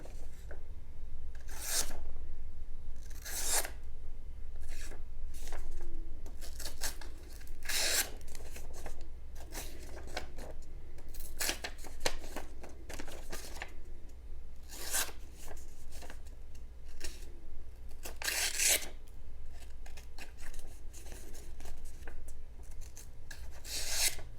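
A stainless steel knife blade on a budget Rocktol ST02 multi-tool makes slicing cuts, a series of short, dry rasping strokes repeating at irregular intervals against a quiet background.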